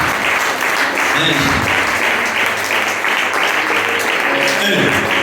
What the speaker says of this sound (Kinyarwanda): reka tubakomera amashyi menshi